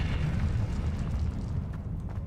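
Incendio fire spell cast in the video game Hogwarts Legacy, a dense roaring whoosh of flame with a deep rumbling low end that holds steady and then eases slightly, loud and close.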